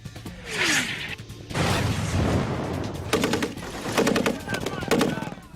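Combat recording from the Korean War near Kimpo, with bursts of machine gun fire, explosions and rushing blasts from grenades and mortars, loud and chaotic, rapid repeated shots clustering in the later seconds.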